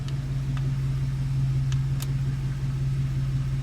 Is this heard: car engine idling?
yes